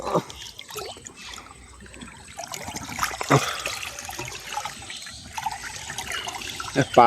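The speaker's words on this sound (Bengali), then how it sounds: "দেখেন প্রচুর স্রোত এখন" Strong current of water rushing through a village canal, a steady broadband flow with splashy trickling bursts, loudest near the end, with no talk.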